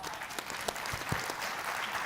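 An audience at a mayors and business leaders plenary session gives a panel a round of applause, a dense, even clapping from a large room heard from some distance, continuous for about two seconds with a few sharper claps standing out.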